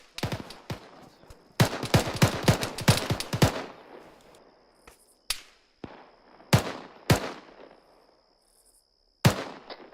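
Rifle and machine-gun fire in ArmA 3 cracks in sharp bursts, with rapid volleys early on and then single loud shots spaced apart, each echoing briefly before the next.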